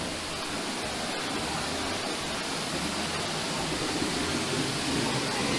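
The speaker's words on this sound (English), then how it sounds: "There's a lot of spray from the waterfall." Steady, dense roar of falling water and spray at a waterfall near Sky Valley, Georgia and Highlands, North Carolina, a broad constant wash filling the whole span with no pauses.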